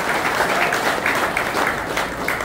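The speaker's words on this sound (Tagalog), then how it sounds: "palakpakan natin si Lord para matapos natin" A church congregation claps together after a sermon prompt, a steady, moderately loud patter of many hands with faint crowd murmur underneath.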